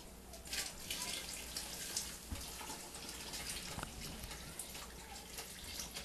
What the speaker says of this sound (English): We're going to add our milk.